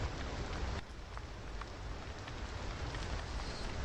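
Freezing cold rain falls outside, a steady dense hiss of drops heard from indoors, continuous and fairly soft with no talk.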